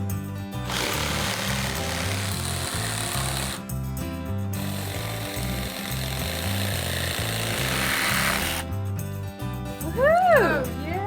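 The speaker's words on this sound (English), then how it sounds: "We're using a circular saw for the long cuts and a jigsaw to finish up the inside cuts." A circular saw and a jigsaw cut wooden pieces for a step stool, giving long stretches of harsh, steady buzzing with brief pauses between cuts, all under continuous background music.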